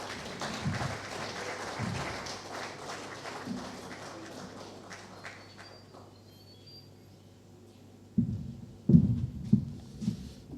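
Guests at a gala dinner applaud, with soft, muffled clapping fading into a lull before a louder, closer burst of claps near the end.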